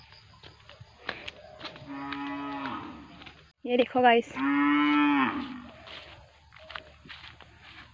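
A cow moos twice in a potato field on a farm in Assam: a drawn-out low call, then a louder, longer one after a brief pause, with a few words of talk before them.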